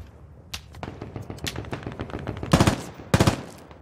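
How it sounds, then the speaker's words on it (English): Automatic gunfire in the tactical shooter Squad on the Kohat map, with rapid rattling bursts building to two loud, sharp volleys near the end, and no talking. "we're just taking fire from the east"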